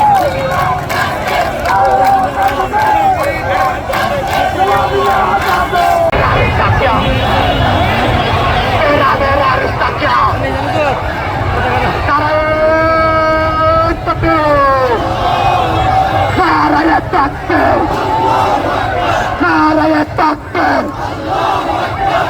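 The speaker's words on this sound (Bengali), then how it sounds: "এই প্রতিবাদে আমরা আজকে এখানে বিক্ষোভ মিছিলটা করেছি" A protest march for Palestine in Cox's Bazar, Bangladesh: a loud crowd chants and shouts slogans together in rising waves, with a leader's voice calling out over the massed cries throughout.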